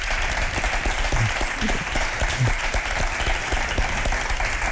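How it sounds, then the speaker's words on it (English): Steady, full applause from an audience at a tech and society talk, continuous clapping at even loudness across the whole stretch with a faint murmur beneath. "let's please give Nancy a round of applause."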